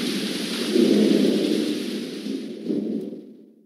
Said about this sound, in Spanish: Esta noche tiene lugar una terrible tormenta. Está lloviendo.